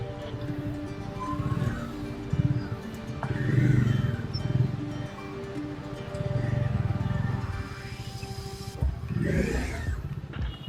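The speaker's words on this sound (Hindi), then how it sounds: "जैसा कि आप लोग देख रहे हैं, ट्रैफिक बहुत ज़्यादा है, पर फिर भी बाइक पर होने की वजह से हम लोगों को थोड़ा बेनिफिट मिल जाता है।" A Bajaj Dominar 400 motorcycle rides through heavy road traffic, its engine a low steady drone that swells and eases with throttle changes, with surrounding vehicle noise and a passing horn-like tone, no talking.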